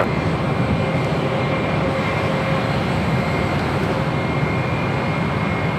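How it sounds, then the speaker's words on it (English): A Southwest Airlines Boeing 737-700 jet arriving on runway 25 left at LAX from Albuquerque, a steady, loud engine rumble with a faint whine held constant throughout, with no voices. "Southwest Airlines flight 894 coming from Albuquerque, New Mexico, 737-700."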